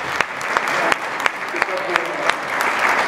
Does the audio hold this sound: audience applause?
yes